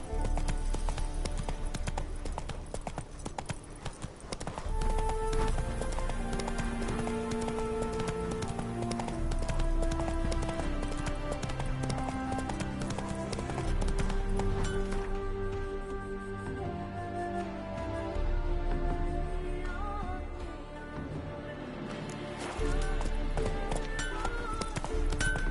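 Roach, the horse in The Witcher 3, gallops with fast, regular hoofbeats that run under loud background music throughout.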